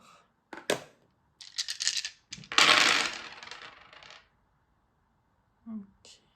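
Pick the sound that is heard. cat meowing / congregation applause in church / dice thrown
dice thrown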